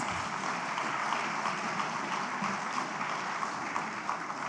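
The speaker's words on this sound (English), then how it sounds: "I think we need to support them more with a louder applause." A conference audience gives sustained, even applause for the event organising team. The clapping is dense and mid-distance, with no talking over it.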